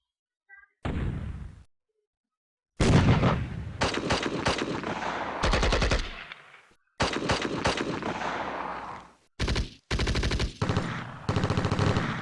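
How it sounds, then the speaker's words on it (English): Loud bursts of machine gun fire and artillery blasts from the Steel Panthers WW2 strategy game, rapid rattling volleys separated by brief silent gaps, dense and close throughout. "I'm going to drop artillery fire just like that onto their location. That's going to hit them hard."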